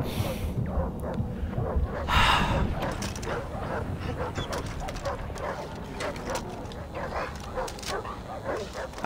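A dog in the video game Far Cry 3 barks and yips with a few whimpers over a busy in-game background, close and fairly steady throughout, with voices talking over it.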